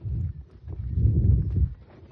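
A few soft, muffled hoof thuds of a horse stepping over a tarp, low and close, with a quiet rustle between steps.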